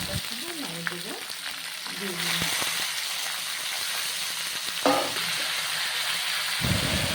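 Bottle gourd stems and leaves hiss and sizzle in hot oil in a pan, a steady frying crackle with a sharper burst partway through as they are stirred, with no talk.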